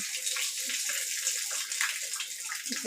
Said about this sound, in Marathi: येतच आहे तो नळ हां